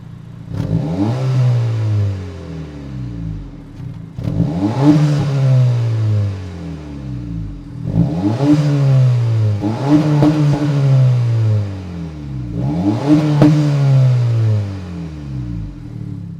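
A 2025 Honda Civic Si's 1.5-liter turbo four-cylinder rises through four repeated revs, each climbing then falling back, heard close and loud with a steady idle between pulls.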